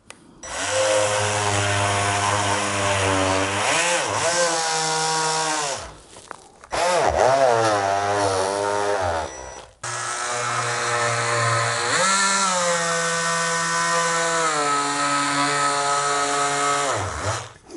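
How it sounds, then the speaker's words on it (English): A Ridgid triangular-pad detail sander works over wood, a loud, steady buzzing whine running almost continuously with a brief stop partway through before starting up again. "take my little rigid sander with the little triangle thing on it and finish up the sanding"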